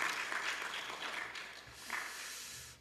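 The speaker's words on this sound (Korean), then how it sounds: "격려의 박수 한번 드리겠습니다" A church congregation applauds visiting family members during a worship service, a soft, steady wash of many hands clapping heard at a distance.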